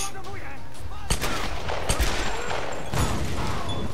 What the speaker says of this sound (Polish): Strzelam do niego ile się da.